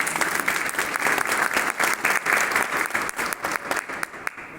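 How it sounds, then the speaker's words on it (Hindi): An indoor audience claps briskly for a zonal management team, a short dense burst of applause that stays fairly even before tapering off. "एक बार उनके लिए आप ताली भी बजा सकते हैं।"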